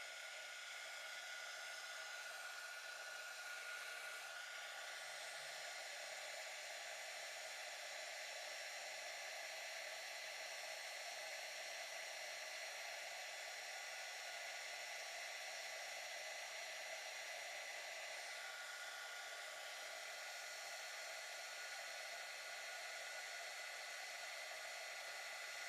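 Steady, quiet hiss and roar of a torch flame heating solder on a round jewelry pendant, holding constant for a long stretch with no talking.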